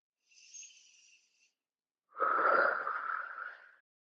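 A deep breath taken during a beginner yoga sun salutation: a short light inhale followed by a longer, louder breathy exhale lasting over a second, close to the microphone with no talking.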